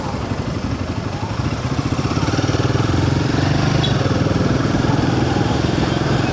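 Royal Enfield Himalayan 450 motorcycle engine revving up close, a steady loud mechanical rumble that climbs in intensity after the first second and then holds at a high, even drone.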